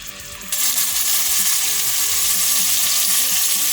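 Onions and ginger with ginger-lemon puree fry loudly in a pan, giving a steady, close sizzle that jumps up after a brief quieter start and holds constant.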